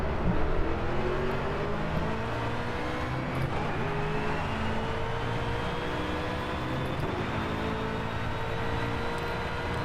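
A Mercedes-Benz SLS AMG GT3 race car in the Project CARS racing game at Imola runs hard through a chicane, its engine droning loud and steady with rising and falling pitch throughout.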